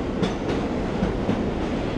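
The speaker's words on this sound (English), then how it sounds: "Not sure if you can see it, there goes the train." Train crossing the Williamsburg Bridge in New York City, a loud continuous rumbling roar with faint rhythmic clacks of wheels on rail, heard from nearby with no talking.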